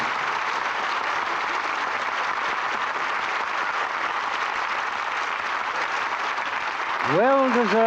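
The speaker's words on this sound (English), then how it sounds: "Well-deserved applause for an exciting performance" A studio audience applauds at length after a radio play performance on Lux Radio Theatre, dense even clapping that ends as a voice begins speaking.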